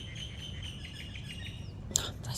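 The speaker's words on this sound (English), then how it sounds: "Those birds." Small birds chirping outdoors, a run of high, quick tweets and trills repeating over a soft background hum, with one brighter, sharper call near the end, moderately close and with no talking.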